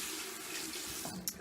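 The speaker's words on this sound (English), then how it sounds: "So I'm just going to wet my brush in the sink," Water running from a sink tap while a makeup brush is wetted, a steady close splashing stream over about a second and a half, with a small drip or clink near the end.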